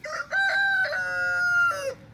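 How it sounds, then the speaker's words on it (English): A rooster crows once loudly and close by, a drawn-out cock-a-doodle-doo with a long sustained middle note, no talking. "that rooster keeps interrupting me with this crow"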